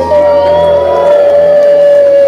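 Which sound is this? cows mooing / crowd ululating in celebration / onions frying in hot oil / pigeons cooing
crowd ululating in celebration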